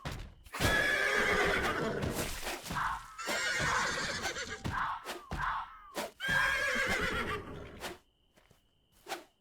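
Horse in the video game Ars Notoria, several loud whinnying neighs in bursts with clip-clopping hooves between them, close and prominent, ending in a brief quiet stretch and one last short sound.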